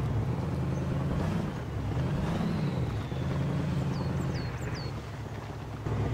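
Steady low rumbling drone of a LEGOV-T.B.T.100 modded truck engine in Spintires on the Pit map, idling evenly and continuously at moderate level with no talk.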